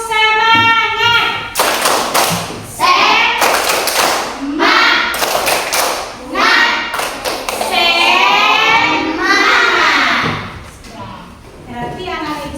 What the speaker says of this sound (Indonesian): mari dulu kita tepuk semangat dulu. Tepuk semangat.